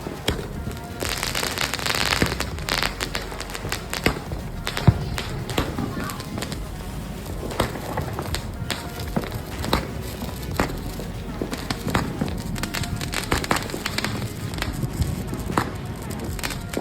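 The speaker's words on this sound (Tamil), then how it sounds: "இது வெடித்து பார்த்தீங்கன்னா 12 ஷாட்ஸ் வந்து மேலே போயிட்டு வெடிக்கும்." A Diwali 12-shot aerial firework fires a rapid series of sharp bursts and crackles, loud and close, with popping and rumbling continuing throughout and voices mixed in.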